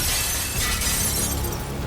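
Glass display case smashed during an armed robbery of a shop, a loud continuous shattering crash with tinkling shards spread through the whole stretch, no talk.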